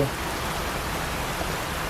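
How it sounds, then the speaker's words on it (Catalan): Heavy rain with big fat drops pours steadily onto a road in Scotland, a dense, loud, continuous hiss with no breaks. "Són uns goterrons"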